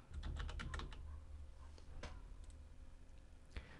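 Rapid typing on a computer keyboard, a close burst of crisp key clicks at the start thinning to scattered taps, alone against a low background hum.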